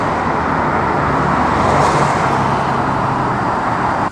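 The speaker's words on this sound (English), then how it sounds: "hard to hear with traffic" Continuous roadway traffic roars as a steady broadband wash, vehicles passing nearby without pause.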